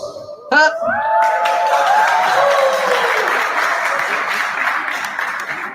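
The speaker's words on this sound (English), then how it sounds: "I think that deserves a round of applause." Crowd applause and cheering for Cardi B on her first visit to Ghana, opening with a voice and a brief shout, then swelling into loud sustained clapping with whoops that slowly thins toward the end.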